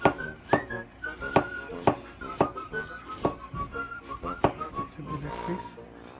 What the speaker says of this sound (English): Cut the garlic.